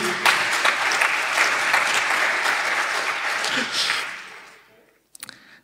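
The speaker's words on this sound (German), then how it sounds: "ein Applaus für André Meister" An audience at a talk applauds warmly. The dense clapping holds for about four seconds, then fades out, and a few faint sounds follow.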